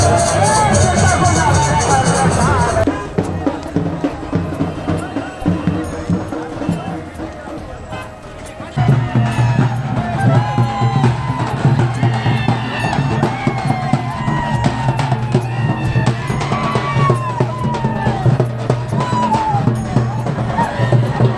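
A crowd gathers at a lakeside temple during a Navratri festival, with a steady babble of many voices, movement and footsteps, loud and close, and nearby people talking over the din.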